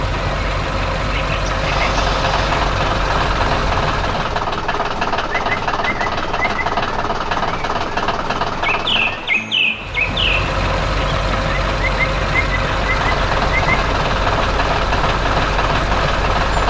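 A heavy engine chugs and knocks steadily nearby, a working machine droning throughout with a brief dip partway and a few high chirps.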